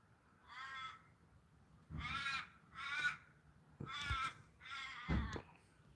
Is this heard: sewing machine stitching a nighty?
no